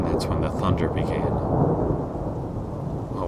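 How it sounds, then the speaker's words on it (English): Thunder rolls steadily outside a window during a storm at night, a continuous deep rumble mixed with rain, with faint higher rattles near the start. "And that's when the thunder began."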